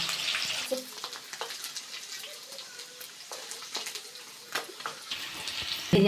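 Moderate sizzling and crackling of paneer frying in oil, with occasional stirring scrapes and clinks of a utensil against the pan.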